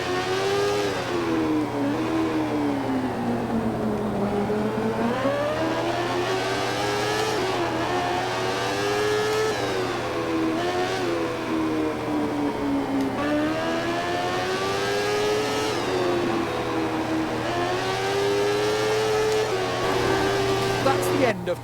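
Motorcycle engine in the MotoGP 15 video game during qualifying at a damp Austin circuit, revving continuously in rising and falling waves as the bike accelerates and brakes, loud and steady under a constant low hum.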